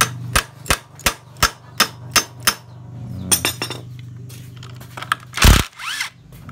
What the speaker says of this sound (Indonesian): Kita ketok sedikit karena luka ini ya, jadi nggak masuk kuncinya.